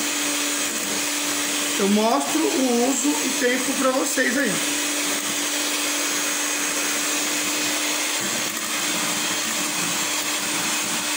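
A Britânia Pérola Maxx 400-watt stand mixer beats eggs over boiling water with a loud, steady motor whir, while someone speaks over it for a few seconds.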